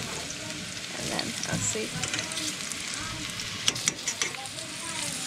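Chicken of the woods mushroom pieces fry in coconut oil in a pan, sizzling steadily and close with scraping stir sounds, while a person briefly speaks over it.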